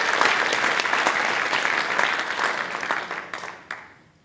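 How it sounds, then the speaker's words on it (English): Audience applauding at the Gender Summit 2019 conference as a panel speaker is called to the stage: dense, sustained clapping from a large crowd that gradually thins out and fades to silence. "Please, also an applause."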